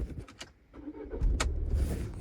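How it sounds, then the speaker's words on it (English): Engine of a 2021 Volvo XC90 starting up, a brief crank and catch after a few small clicks, settling into a low idle, fairly quiet and close. "Now put your foot on the brake and start the car."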